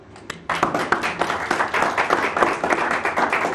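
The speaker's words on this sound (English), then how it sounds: "give yourself each a hearty clap" Audience at an annual registrar awards ceremony clapping, starting with a few isolated claps then swelling into a lively, uneven round of applause that continues to the end.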